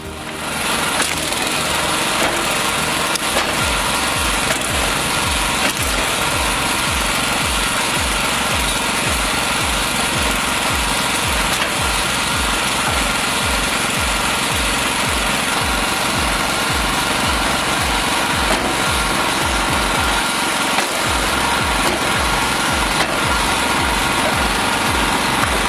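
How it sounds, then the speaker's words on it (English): A compact combustion engine drives a trailer-mounted firewood processing machine with a lever and pulley system and belt conveyor, running loud and close with a steady throbbing pulse that never lets up. "The lever and pulley system drive a compact combustion engine, all mounted on a trailer with a belt conveyor tossing split wood aside."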